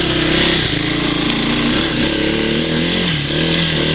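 A 1986 Yamaha DX225 shaft-drive three-wheeled ATV climbing hills, its small engine droning loud and close with a steady buzzing note that wavers slightly under load, running alone without talk.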